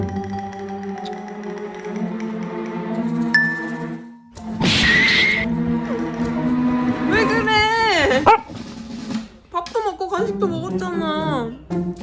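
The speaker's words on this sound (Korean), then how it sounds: "야 누가 짖어" A small talkative dog barks, yips and whimpers in varied bursts, close and loud, mixed with people talking.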